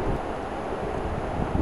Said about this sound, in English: That wind was blowing those trees the whole time!